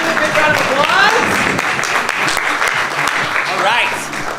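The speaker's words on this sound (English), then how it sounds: "Cheers, give me a big round of applause." An audience at an improv comedy show breaks into steady applause with scattered cheers and whoops, filling the whole clip with dense clapping.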